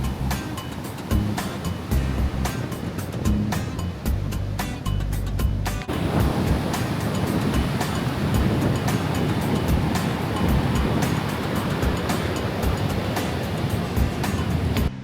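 Surf at Agonda Beach in South Goa rolls in as a steady, loud wash of breaking waves, continuous and broadband with no voices.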